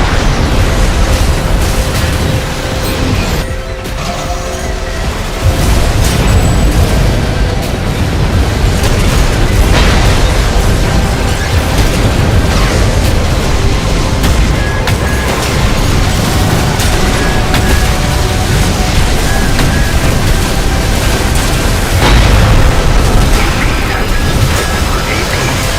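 Booming detonations in the mech combat game Armored Core 6, with loud explosive bursts over a dense rumbling battle backdrop, sustained and heavy throughout, a voice talking at times.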